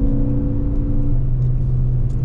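Ford Focus ST pulling through a long third gear, a steady low engine drone and road rumble from inside the car with a tone holding and shifting slightly, no talk.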